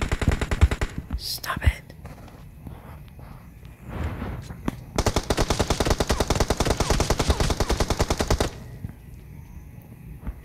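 Rapid automatic gunfire from a video game in a pistol and crossbow challenge, a few scattered shots early followed by a long dense burst, with quiet voices talking over it.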